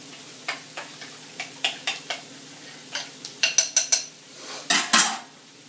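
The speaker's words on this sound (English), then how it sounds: "We then are going to stir it up." A spoon stirs a cinnamon mixture in a bowl, making a series of light, quick clinks and taps against the sides that grow louder and closer together toward the end, with no talking.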